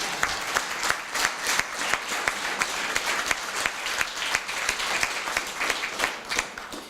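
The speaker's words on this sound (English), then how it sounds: "it's okay to applaud this moment in our history" Applause from an audience, with distinct individual claps standing out over a continuous crowd clatter, fairly faint and even throughout.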